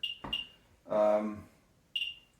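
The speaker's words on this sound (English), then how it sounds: "every time you hear a beep, it means that there is basically a detection event inside the Geiger tube that's inside this probe" A Geiger counter with a handheld probe picks up background radiation, giving a few short, sharp beeps at irregular intervals. A brief stretch of speech falls between the beeps.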